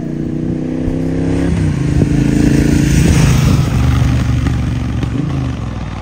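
A Triumph Bonneville Bobber Stealth Edition motorcycle engine runs close and loud, a deep steady throb that swells as the revs rise and then settles back, with no talk over it.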